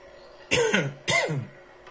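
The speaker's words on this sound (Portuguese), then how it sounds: "Essa minha tosse é alérgica" Two short, harsh allergic coughs close by, a brief gap between them, then quiet.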